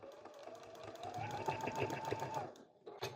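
A domestic sewing machine stitches steadily along a line while making a mitten gift card holder, running at an even, continuous whir with brief changes near the end as it reverses for back stitching.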